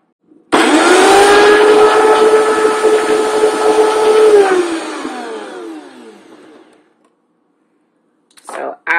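A blender purees tomatoes, ginger and garlic for a sauce, starting with a loud whirring roar that holds for several seconds, then winds down to silence before a brief noise at the end.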